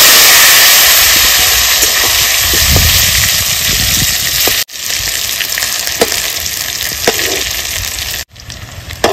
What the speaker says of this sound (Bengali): ভেজে নিয়েছি, আলু তুলে নেব।